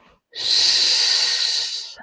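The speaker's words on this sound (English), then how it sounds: "you inhale through the nose and you hiss" A person exhales a loud, steady hiss out through the mouth while holding a smile, after breathing in through the nose. It is one close breath lasting about a second and a half.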